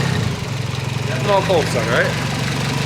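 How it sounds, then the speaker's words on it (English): A Nissonda JDM truck idles on 100% ethanol with a steady, even low rumble and a faint whine on top, while someone talks over it close by. "The engine sounds super freaking healthy."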